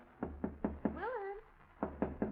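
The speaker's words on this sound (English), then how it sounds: "someone's knocking on your door" Someone knocks on a door in a 1947 radio drama: four sharp raps, a pause while someone speaks, then three more knocks, close and distinct.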